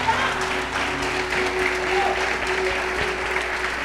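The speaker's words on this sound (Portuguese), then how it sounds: "Dá uma salva de palmas," Church congregation applauding, a steady broadband patter of many hands lasting throughout, mixed with sustained organ or keyboard tones and some voices underneath.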